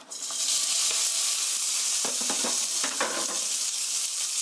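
Sliced beef hits hot oil in a pan with a loud, bright, continuous sizzle, and a few faint utensil clicks and scrapes stand out in the middle.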